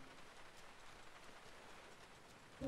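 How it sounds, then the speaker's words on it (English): Steady rain pattering in the video game GTA IV, a faint, even hiss of drops falling throughout, with a brief louder sound at the very end. "Bro, it's raining."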